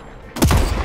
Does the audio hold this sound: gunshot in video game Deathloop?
yes